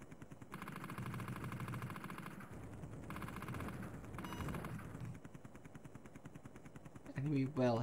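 Rapid machine-gun fire from an Amiga video game, a steady rattling burst running through most of the stretch over game sound, ending in a brief louder electronic effect.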